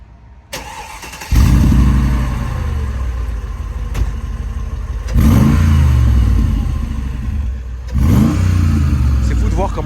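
A car engine cranks and catches, then revs hard in three loud surges with idle between, close by; the car is an old, rattly vehicle with everything clanking.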